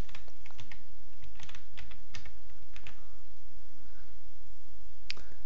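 Quick bursts of keystrokes on a computer keyboard as a username and password are entered, close-up clicks in short uneven runs with brief pauses.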